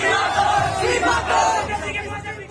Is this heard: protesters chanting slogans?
yes